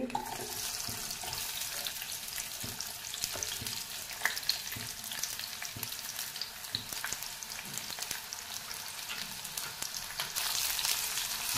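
Onion sautés in hot oil toward a reddish brown, a continuous bright sizzle with scattered crackles and occasional stirring scrapes.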